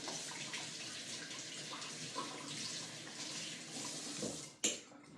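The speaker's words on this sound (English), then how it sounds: "So we're gonna rinse that off." Running tap water rinses bread dough off hands in a kitchen sink, a steady continuous splashing stream with a sharper splash near the end.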